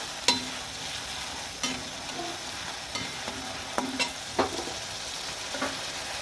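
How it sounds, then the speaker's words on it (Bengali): Onion paste frying and being stirred in a pan for a pointed gourd curry, with soft sizzling underneath and several distinct scrapes and clicks of the spoon against the pan, close but quiet. "এভাবে আমি নেড়ে নেবো।"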